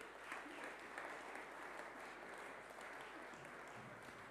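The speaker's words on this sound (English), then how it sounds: "Let's give them another clap." A church congregation at a morning service gives a steady round of clapping, even and fairly distant, lasting several seconds with no other sounds on top.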